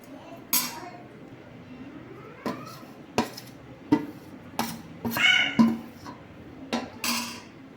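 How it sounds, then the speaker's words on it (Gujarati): Ghee and flour being stirred together in a kadai for mohanthal, with a utensil scraping and clinking against the metal pan in a string of short, sharp knocks and scrapes, fairly close and without speech. "કઢાઈમાં ઘી એડ થઈ ગયું છે હવે લોટ એડ કરીશું બધા જ લોટને ઘીમાં એડ કરી દેવાનો છે"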